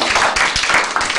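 Short burst of audience clapping at a French stage show, a dense patter of many hands filling the moment with no voices over it.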